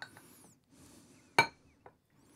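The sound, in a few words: metal spoon scraping and mixing in a bowl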